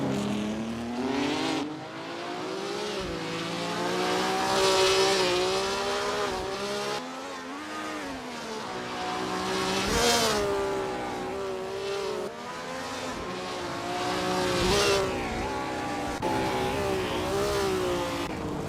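A Maserati 250F 12-cylinder racing car in Assetto Corsa laps the Thomson Road Grand Prix circuit, its engine revving hard through the gears with rising and falling wails, close and loud, broken by brief lifts on corner entry.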